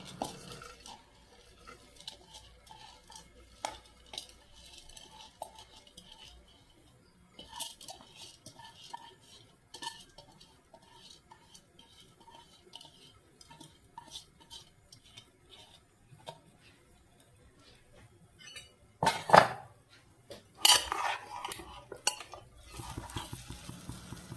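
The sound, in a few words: washed rice being added and stirred in a pot for chicken biryani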